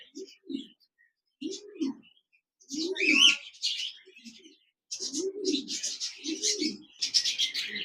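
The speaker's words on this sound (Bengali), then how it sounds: "জেব্রা ফিন্স পাখি রয়েছে রানিং পেয়ার" A pair of zebra finches chirps in short, repeated bursts, with bright high calls and lower nasal notes. The calls come close together near the microphone, with a few brief pauses between them.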